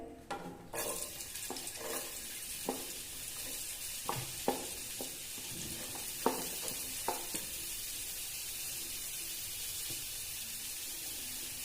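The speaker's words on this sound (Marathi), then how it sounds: "भाजीसाठी दोन मोठे चमचे मी तेल वापरते तेल तापलं आहे" Heated oil in a pan for a breadfruit vegetable, a steady close hiss of sizzling that runs throughout, broken by a few sharp clinks and taps of a spoon against the pan, no voices.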